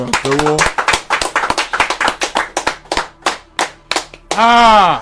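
An audience breaks into applause for Kwara State, a dense run of sharp, steady hand claps carried for several seconds, with a voice speaking briefly at the start and again at the end.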